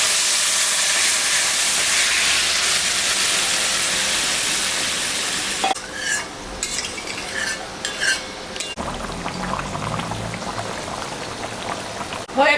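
Fish curry broth with taro simmers in a pan, a steady bubbling sizzle that gives way to intermittent stirring and scraping clatter, heard close up.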